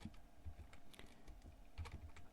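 Quiet, close typing on a computer keyboard: scattered soft key taps in short bursts with small pauses between them, nothing else heard.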